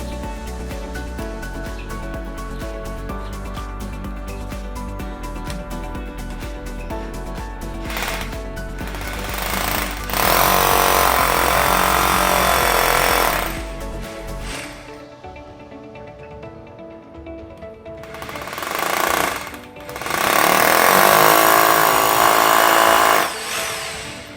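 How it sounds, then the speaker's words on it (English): Loud bursts of drilling into a wall with a 5 mm masonry bit, two long grinding runs separated by quieter stretches, with a low hum beforehand; no talking. "we have a 5 mil masonry drill that we will be drilling holes with"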